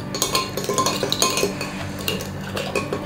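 Dishes and cutlery clink and scrape steadily as food is served from bowls at a home meal of curry and clams, close and busy with a continuous patter of small metallic and ceramic taps.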